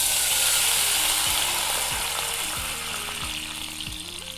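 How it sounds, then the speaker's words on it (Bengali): Hot melted ghee in a wok hisses and sizzles loudly as water is poured in, a broad steady crackle close by that slowly eases off, with light scraping clicks underneath. "ঘিটা গলে গেছে, এখন দেব জল।"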